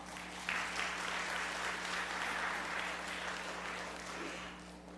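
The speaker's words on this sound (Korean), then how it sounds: "나오실 때 우리 박수로 환영하겠습니다" A church congregation at a Sunday worship service claps steadily to welcome a missionary, a broad, even wash of applause from many hands that starts abruptly and tapers slightly near the end, with a low steady hum underneath.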